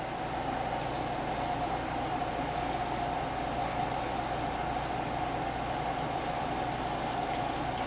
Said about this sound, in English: Now, what I'm going to do next is cover this with water.